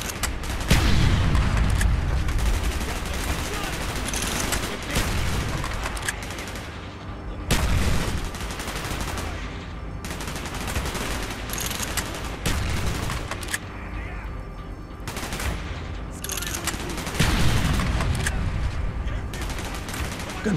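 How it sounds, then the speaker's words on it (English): Gunfire in the Call of Duty: Black Ops PC game, a dense fusillade of rifle and machine-gun bursts with booming impacts in steady waves, with occasional voices of soldiers mixed in. "Gunfire's drawing attention."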